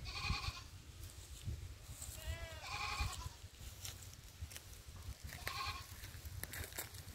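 A large male goat bleats several times, loud wavering calls spaced apart over a low rumbling farmyard background.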